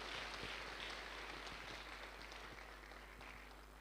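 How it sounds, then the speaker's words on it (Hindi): Steady applause from a crowd, a dense wash of clapping that holds for several seconds and slowly tapers off slightly. "जोरदार तालियां अजय जी और इनके लिए।"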